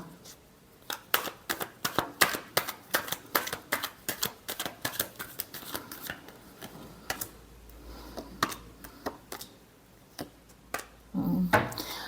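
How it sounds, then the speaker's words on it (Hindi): Tarot cards being shuffled by hand, close and fairly faint, a quick series of sharp riffling snaps in uneven rhythm that slows toward the end, with a brief voice at the very end. "Last shuffle."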